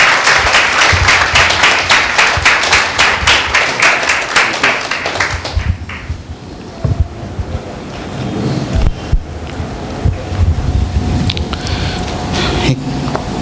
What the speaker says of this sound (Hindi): एक जोरदार ताली परमेश्वर के नाम की महिमा के लिए देंगे